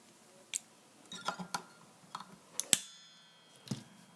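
Excess string is snipped off a 1989 Fender Strat Plus with a roller nut and locking tuners, heard as a series of sharp, close clicks and snips spaced irregularly, one louder metallic snap near the end, with quiet room noise between.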